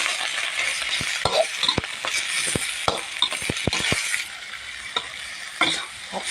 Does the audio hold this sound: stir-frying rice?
yes